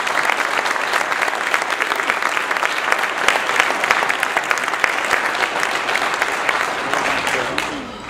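Sustained applause from an audience at a 2016 closing event, thanking the kitchen staff who served the meal; dense, steady clapping throughout that fades slightly at the end, with no voices over it.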